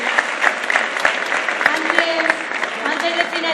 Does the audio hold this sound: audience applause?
yes